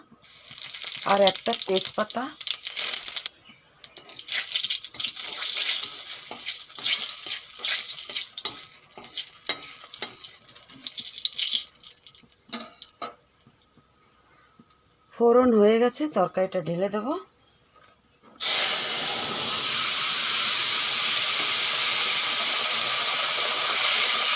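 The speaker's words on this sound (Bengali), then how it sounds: "তেল গরম হয়ে গেছে ফোড়নে দিয়ে দেব জিরা" Whole cumin seeds hit hot oil in a karahi for tempering while a Bengali shola kochu (water taro) curry is cooked; a loud, steady hiss of sizzling fills the end, after stretches of talk and faint kitchen clatter.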